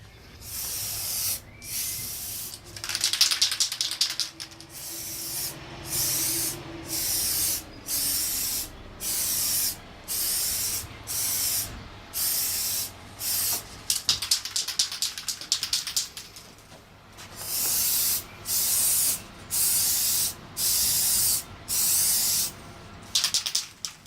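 Aerosol spray paint applied to exterior plastic parts in short, even hissing bursts with brief pauses between them, repeating steadily and close by, with faint rattles and shuffling between passes and no talk.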